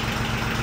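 A John Deere 750 tractor engine runs steadily at idle, a close, continuous low rumble with a throbbing knock, loud and unbroken throughout the short span.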